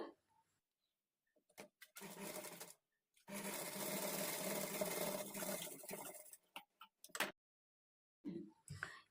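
A sewing machine stitches a princess-cut blouse with invisible thread in two close, loud runs, a short one and then a longer one, separated by pauses filled with clicks and handling sounds.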